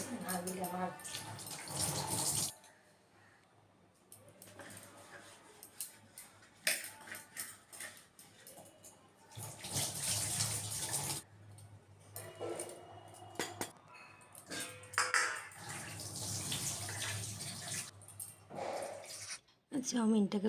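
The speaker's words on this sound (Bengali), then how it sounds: "ভালো করে একটু ধুয়ে টুয়ে নিলাম তারপর একটু বোতলের জল দিয়েও ধুয়ে নিলাম" Running water rinses boiled chow mein noodles, first under a tap and then with water poured from a bottle, in a few splashing stretches with quieter gaps between them as someone talks throughout.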